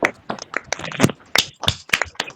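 A congregation at a women's fellowship prayer meeting claps loudly for about ten sharp, separate claps in an uneven rhythm, close and clear with no voices over them.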